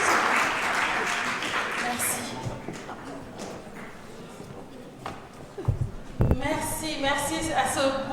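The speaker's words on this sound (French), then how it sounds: "Ce sont vos applaudissements, s'il vous plaît." Audience applause at a benefit evening for SOS Méditerranée France, a steady wash of clapping across the hall with a few louder, sharper claps near the end and voices murmuring underneath.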